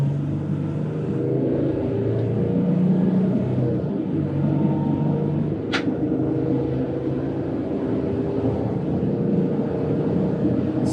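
A 4x4 Sprinter van accelerating at full throttle, a steady engine drone that builds slowly and gains pull around 2,000 RPM, heard from inside the cabin with one brief high click partway through.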